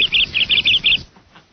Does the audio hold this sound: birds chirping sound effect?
yes